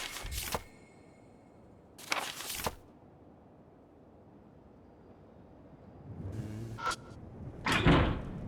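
A locked door rattling in the video game Death Mark: several short, harsh rattling bursts come close and clear, separated by stretches of low background hiss.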